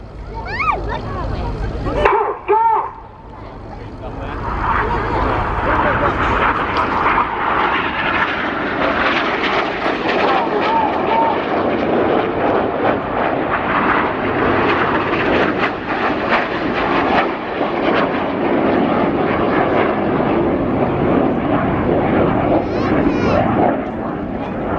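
Synchro pair of display jets at the RIAT air show dive low to about 100 feet for a final pass, a loud sustained jet roar sweeping past the crowd under a commentator's voice.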